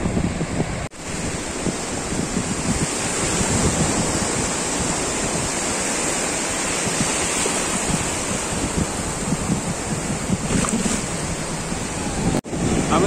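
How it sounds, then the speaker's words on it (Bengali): Sea waves at Bakkhali surge and wash continuously onshore, a broad steady roar of surf mixed with wind buffeting the microphone. "ভালোই ঢেউ আছে খারাপ ঢেউ না"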